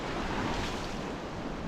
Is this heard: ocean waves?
yes